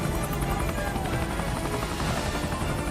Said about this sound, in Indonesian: Ford kini diantara menggunakan helikopter menuju ke Hawaii